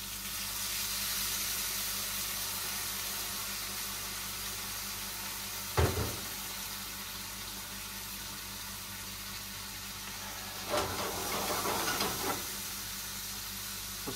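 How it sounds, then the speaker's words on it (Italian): Red mullet ragù for elicoidali pasta steams over a high flame after a splash of deglazing liquid, giving a faint, steady hiss broken by a couple of brief clatters. "e una sfumatina"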